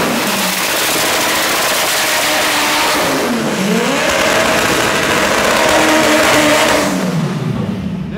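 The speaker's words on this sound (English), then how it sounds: "Pretty sure that was a pretty chill burnout also." A 2400 hp drag race car doing a burnout at a drag strip, a very loud, continuous engine roar with the revs swooping down, back up and holding high before easing off.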